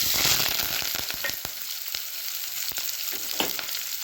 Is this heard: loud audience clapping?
no